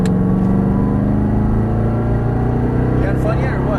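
A Chevrolet Corvette Stingray under full throttle, its engine a steady loud rumbling drone that builds slightly, heard from inside the car with a voice briefly speaking over it.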